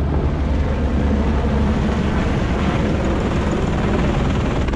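Helicopter landing at the Kedarnath helipad in the Himalayas, a loud, steady rotor thrum and engine roar close by, continuous throughout with no talking.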